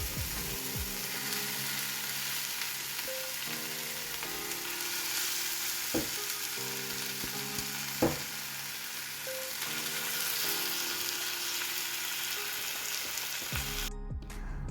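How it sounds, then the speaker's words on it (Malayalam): Marinated fish sizzles steadily on a hot tawa, a constant crackling fry with a few sharp clicks and clanks from the pan, no voices. "ഇനി ഇതിന് മുകളിലായിട്ട് നമ്മൾ മാരിനേറ്റ് ചെയ്ത് വെച്ച മീനുണ്ടല്ലോ, അത് വെച്ച് കൊടുക്കാം."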